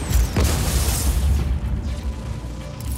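A generator blows up in Just Cause 4, a heavy booming explosion with a deep rumble and debris crackle, loud and close, tailing into a sustained low roar.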